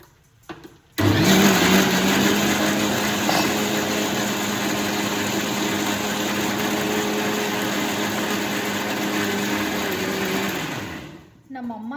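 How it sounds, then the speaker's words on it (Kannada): A kitchen mixer grinder churns cream into homemade butter, starting abruptly with a loud, steady whir that holds for about ten seconds before winding down and stopping. "ನಾವು ನೀರು ಹಾಕ್ಕೊಂಡು ಇನ್ನೊಂದು ಸ್ವಲ್ಪ ಮಿಕ್ಸಿ ಮಾಡಿದ್ರೆ ನಮ್ಮ ಬೆಣ್ಣೆ ರೆಡಿಯಾಗಿ ಹೋಗುತ್ತೆ"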